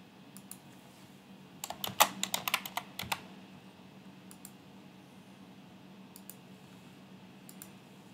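Someone types a policy name on a computer keyboard, a quick burst of crisp key clicks in the middle, then a few scattered taps later against a quiet background hum.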